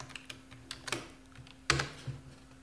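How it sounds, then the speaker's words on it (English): A password being typed on a computer keyboard for an Ubuntu login, a few quick close key clicks with one louder press near the end, over a faint steady hum. "So I'll type my password in"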